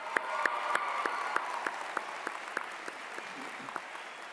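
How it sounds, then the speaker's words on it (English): Graduation ceremony crowd applauding singer Lexi at a high school commencement, a broad wash of clapping with distinct nearby claps popping out, fading slightly toward the end. "I just want to give one more round of applause for Lexi."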